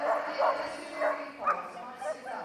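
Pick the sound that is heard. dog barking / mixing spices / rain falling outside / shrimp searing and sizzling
dog barking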